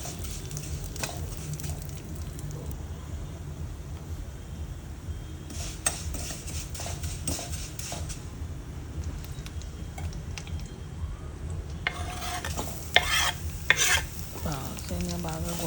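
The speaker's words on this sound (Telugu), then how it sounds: "సేమియా బాగా గోల్డెన్ బ్రౌన్ వచ్చిన దాకా వేయించుకోవాలి. బాగా తిప్పుకుంటూ వేయించుకోవాలి" Vermicelli fries in ghee in a kadai with a soft, continuous sizzle while a spoon stirs and scrapes against the metal pan, the clinks and scrapes growing busier toward the end.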